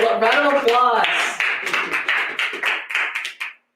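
Small group giving a round of applause at a comic shop livestream, a short burst of clapping and cheering mixed with overlapping voices, fading out after a few seconds.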